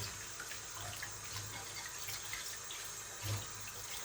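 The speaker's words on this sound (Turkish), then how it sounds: "Böyle ılık suyla yıkıyorum ki ellerim donmasın diye." Dishes washed by hand under a running tap of lukewarm water, a steady soft rush of flowing water with faint clinks and splashes, quiet and continuous, no voices.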